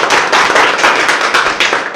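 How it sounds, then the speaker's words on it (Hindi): At a village government school, close, loud rhythmic clapping fills the moment, with sharp, fast, repeated hand claps running continuously. "ताली।"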